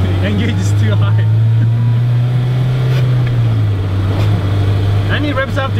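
A Toyota AE86 Corolla with a swapped Honda S2000 engine revs hard toward 8,000 RPM, a loud sustained drone that rises and holds, with people talking over it.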